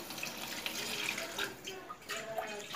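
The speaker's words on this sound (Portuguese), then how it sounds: "Vou coar, olha só." Water pours steadily through a strainer as boiled beef tripe, cooked with lemon, is drained in a kitchen sink, giving a continuous close splashing rush.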